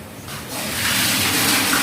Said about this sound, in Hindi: पानी भर के एक बार नीचे डाल दो